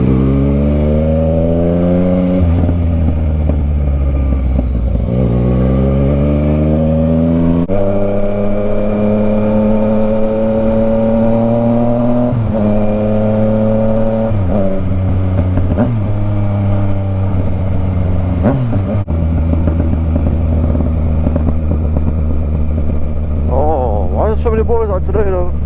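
A Yamaha Tracer 900 fitted with a full Delkevic exhaust pulls through repeated gear-by-gear accelerations, each rising whine breaking at a shift, loud and close, with a rider's voice over the engine.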